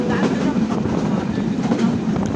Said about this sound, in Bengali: আবার রেলটা ছেড়ে দিল